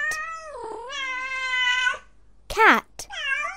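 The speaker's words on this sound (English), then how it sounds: "Cat." A cat meowing loudly and close, one long drawn-out meow followed by two shorter ones, with no other sounds around them.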